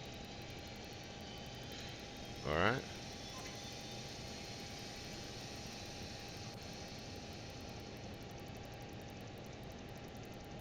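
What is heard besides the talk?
Learjet jet engines starting up in video game MSFS 2020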